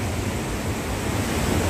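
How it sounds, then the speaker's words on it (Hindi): Fast, powerful river water rushing below a waterfall beside a dam in hilly country near Kotdwar, Uttarakhand, a steady, dense roar without pause that fills the whole clip. "ये ऊपर से झरना का कोई पानी आ रहा है, नदी है, साइड में बांध है। बहुत तेज बहाव है यहाँ का"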